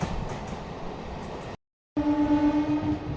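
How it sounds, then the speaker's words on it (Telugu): A MEMU passenger train, number 07884 on the Rajahmundry to Bhimavaram line, rumbles along a curve, then after a brief cut a steady droning horn-like tone rises over the rolling noise. "ట్రైన్ అయితే బ్యూటిఫుల్ టర్నింగ్ అయితే ఒకటి తీసుకుంటుంది."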